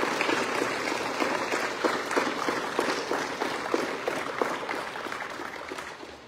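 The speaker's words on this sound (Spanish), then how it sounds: "la maestra Beatriz Medrano Virgen, a quien les pido un fuerte aplauso." An outdoor audience at a reforestation event applauds students, with dense, steady clapping that carries on for several seconds and slowly fades.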